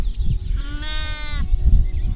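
A sheep bleats once, close and loud, over a low rumbling farm background in a pen holding lambs and sheep.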